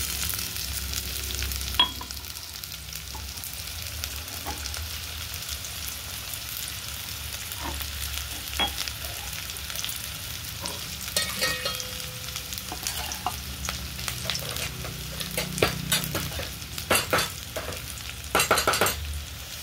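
Crushed garlic frying with fenugreek greens in a pan, a low, steady sizzle broken by frequent spatula scrapes and knocks that become busier toward the end, no one speaking.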